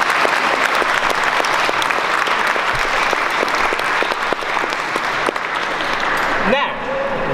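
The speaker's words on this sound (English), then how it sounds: "Give her a round of applause, please." An audience applauds a woman after a carnyx demonstration, a dense, steady wash of clapping that fills the room for several seconds before thinning out at the end.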